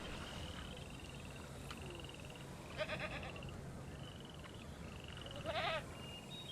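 Goat bleats from the Jurassic World Evolution game, two short wavering calls a few seconds apart over a steady ambient park drone, with faint chirping tones scattered through the background.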